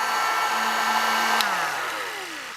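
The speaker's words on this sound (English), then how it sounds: "And we'll set it with the heat gun." Heat gun setting the coating on a homemade crappie A-rig lure, a steady blowing whir with a tonal hum that drops in pitch as the gun winds down near the end.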